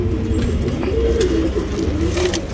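A male pigeon from a champion breeding line coos nearby, a steady run of low, rolling coos that carries on without a break and without any talk over it.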